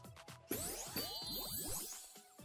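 Bright bell chimes and pinging dings ring out in HuniePop 2 Double Date, several quick tinkling tones with sweeping chirps overlapping, a louder burst at the start and fading jingles after, no talking.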